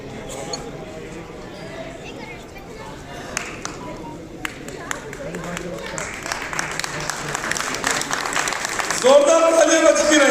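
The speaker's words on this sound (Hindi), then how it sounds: "जोरदार तालियां बजती रहे, तालियां बजती ना हो" Applause for the chief minister at a Delhi residents' welfare association meeting, rising from scattered claps into a fuller, denser patter over the last few seconds, with talk and room noise running underneath.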